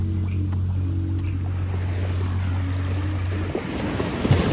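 Sea waves wash onto a sandy shore where sea turtles are being released into the ocean; a steady rush of surf with a low rumble runs throughout, swelling slightly near the end, and no one speaks.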